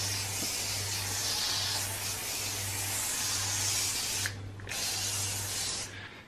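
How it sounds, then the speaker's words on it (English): A pump spray bottle releases a steady misty hiss of homemade lanolin rust-prevention spray over a board. It runs almost continuously for about four seconds, breaks off briefly, resumes, and a faint low hum sits underneath. "I sprayed it all over with the Lanolin to work out its coverage"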